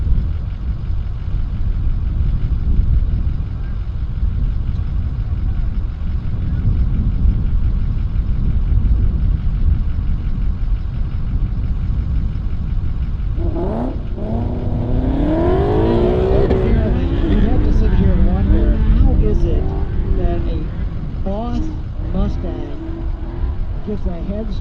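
A Boss Laguna Seca edition and a street-mod front-wheel-drive Honda CRX launch side by side at a drag race, engines roaring loudly and steadily with rising revs near the end, under a track announcer's talk.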